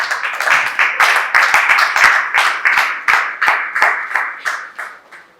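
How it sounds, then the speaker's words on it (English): Clapping for a woman being introduced at a women's business event, a small group's sharp, uneven claps coming near and loud, rising to a steady patter and then thinning out. "Please a round of applause for Mrs."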